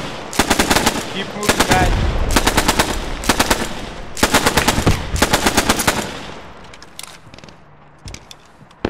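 Rapid bursts of Bren light machine gun fire in the WWII shooter game Post Scriptum, several long loud strings of shots with short pauses, close and dominant, a voice speaking briefly between bursts and quieter distant gunfire at the end.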